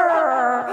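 A short, sustained howl-like cry from a human voice imitating a dog on stage at a live show in Gorakhpur, loud and close, with no other sounds around it.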